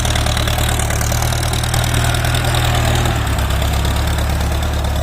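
Engine idling at low revs, a steady close rumble with a constant low hum throughout, loud and alone.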